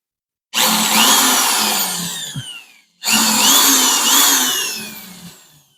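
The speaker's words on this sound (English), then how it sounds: "Now I got a 2-inch hole saw" A drill spins a 2-inch hole saw through metal for a 1.5-inch pipe roll bar on a 1974 Plymouth Duster, in two loud sustained cutting bursts separated by a brief pause, each whining down at the end.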